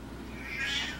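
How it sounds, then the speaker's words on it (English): A single loud, drawn-out meow from a deaf female house cat, rising in pitch and strength toward its end, heard close by with no talk over it. "that cat is loud as hell"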